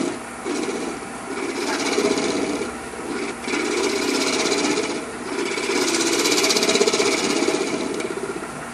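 A cutting tool scraping across the bottom of a wooden bowl on a lathe, a steady rasping, rubbing noise in several continuous passes with brief pauses between them, close and moderately loud.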